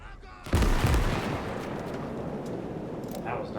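Artillery in the World War II strategy game Call to Arms - Gates of Hell: Ostfront fires with a sudden heavy boom, followed by a long rumbling decay, and a voice talks over the tail.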